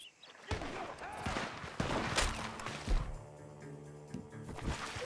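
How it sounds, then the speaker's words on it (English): Gunfire rings out from a barn in Red Dead Redemption 2, several sharp cracks and crashing impacts scattered over a few seconds amid game ambience. "The gunshots are coming from that barn!"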